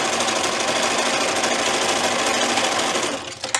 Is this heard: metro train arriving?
no